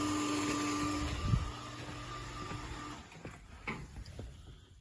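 A condensate pump on a central air conditioner runs during a drain line test at a home AC repair in Winter Garden, Florida. It gives a steady motorized hum and whir with a few soft knocks, fairly close and continuous.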